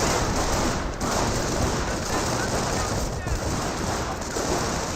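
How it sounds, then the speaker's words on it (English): Dense, continuous gunfire from a .30 cal machine gun in Company of Heroes, a sustained crackling fusillade laying down suppressive fire with faint talk beneath the steady roar. "The 30 cal here is providing some good suppressive fire and supporting fire."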